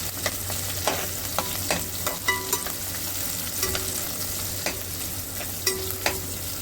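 Onion, tomato, ginger-garlic-chili paste, turmeric and spice masala sautéing in a pan for a mutton dish, with a steady low sizzle broken by regular scraping stirs of a spoon against the pan, close and moderately quiet, no speech.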